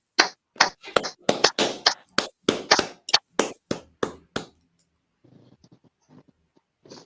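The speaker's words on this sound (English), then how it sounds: "Clap it up for Officer Card the One." An audience at a scripture breakdown class claps for an officer: about fifteen sharp, close claps in a loose, quick rhythm over four seconds. Then it drops to a few faint scattered sounds.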